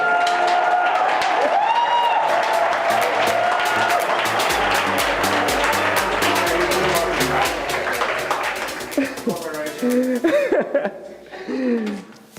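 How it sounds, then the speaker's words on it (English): Newsroom workshop audience breaking into sustained clapping and cheering for a named participant, with laughter mixed in; dense, rapid claps hold steady for several seconds, then thin out as voices and chuckles take over near the end. "An applause to Bea."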